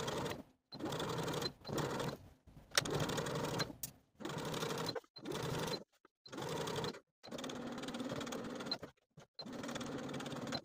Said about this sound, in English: Now I'm going to take this to the sewing machine and stitch as pinned all the way around